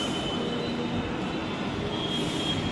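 A Hyderabad metro train running, a steady loud rumble of wheels on rail with a faint high squeal riding on top, heard from inside the carriage without talking.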